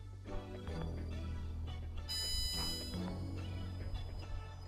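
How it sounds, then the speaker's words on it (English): An electronic buzzer drones with a steady tonal hum that persists throughout, with a higher pitched whine joining midway; no one speaks. "buzzer on."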